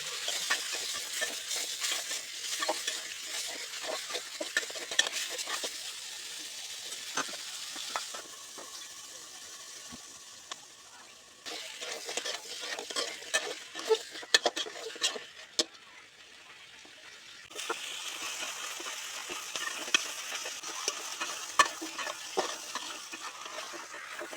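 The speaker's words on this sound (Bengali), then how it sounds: "এভাবে অনেকটা সময় নিয়ে মাংসগুলোকে কষিয়ে নিতে হবে" Country chicken meat being stirred and fried slowly in a pan, with a steady low sizzle and scattered scraping clicks from the spoon. The sound shifts in level as the pan is handled.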